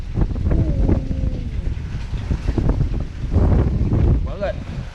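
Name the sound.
strong storm wind around a fishing hut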